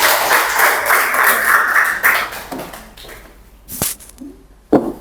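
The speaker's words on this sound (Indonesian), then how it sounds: "Berikan aplaus pada kelompok 3." Classroom applause for a student group's presentation, a dense burst of clapping from many hands in the first two seconds that thins out, followed by a few scattered taps and knocks.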